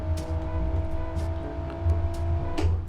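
An Isuzu TFR pickup engine hums steadily in Assetto Corsa, a low drone with a faint tonal whine as the truck is driven, the pitch shifting slightly near the end alongside light clicks.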